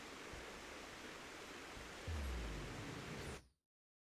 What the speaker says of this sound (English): That waterfall was loud.